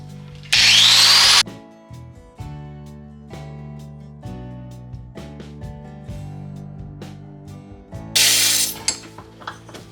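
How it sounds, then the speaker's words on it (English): A grinder carves a wooden spoon, whining loudly in two bursts at the start and near the end. Between them a tonal, droning pattern with rhythmic ticks runs, closer to music or a ratcheting mechanism than steady grinding. "First time trying to carve out a spoon with my grinder"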